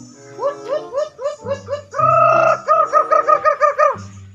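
Chickens cluck and squawk close by in a rapid series of loud calls, rising into a burst of excited cackling.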